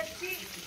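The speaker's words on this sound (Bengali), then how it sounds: "আমি এবার চিকেন পকোড়া ভাজতে বসেছি।" Chicken pakora fries in hot oil at an outdoor picnic, a brief, even, close crackling sizzle with no breaks.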